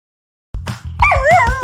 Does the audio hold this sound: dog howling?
yes